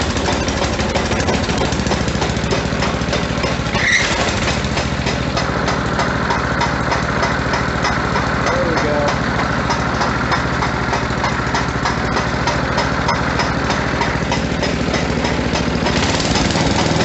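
Snow blower engine idling steadily after a cold start at -10°F, a loud, continuous mechanical chug with a persistent rapid knocking running through it, close by and with no talk.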